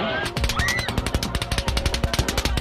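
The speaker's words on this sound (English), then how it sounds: "In under a minute, over 100 rounds are fired into the crowd." Rapid automatic gunfire fired into a crowd crackles in a fast, dense burst of shots, loud and unbroken, with a faint shout rising briefly near the start.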